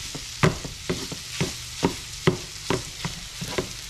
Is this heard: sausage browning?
yes